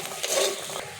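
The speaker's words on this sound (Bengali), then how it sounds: "হালকা করে ভেজে নিয়েছি মশলাগুলো, একটা ম্যাশার দিয়ে ভালো করে ম্যাশ করে নেব।" A masher working through lightly fried, spiced green peas in a pan, giving a short, close run of soft scraping and squishing with faint metallic clinks, heard alone.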